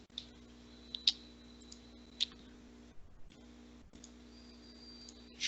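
A few sharp, separate mouse clicks sound over a steady electrical hum from a computer setup, spaced irregularly and fairly close.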